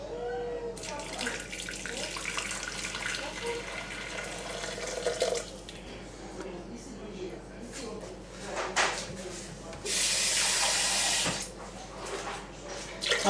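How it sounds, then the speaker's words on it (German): Tap water runs into a Thermomix bowl, a steady splashing rush that turns louder near the end, with clatter from handling and a person talking over it. "falls nicht reicht, einfach mit Wasser auffüllen"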